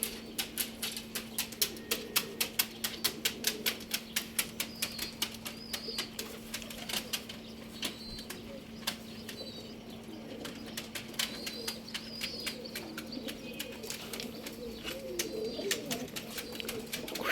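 Pigeons released from a coop take flight, their wings clapping and flapping in a quick rhythmic series of bursts over a low steady hum, with soft coos in the background.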